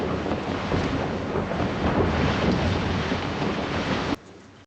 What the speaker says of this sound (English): Water crashes over the deck.